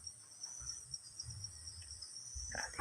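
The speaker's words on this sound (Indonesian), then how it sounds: "tidak ada suara apapun ya, kecuali suara binatang-binatang seperti jangkrik, juga serangga-serangga yang lain" Crickets and other insects chirping on an evening in a remote village in Trenggalek, a continuous high, steady trill with softer pulsing insect calls and faint low rustles, quiet and alone.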